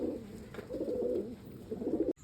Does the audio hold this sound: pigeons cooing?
yes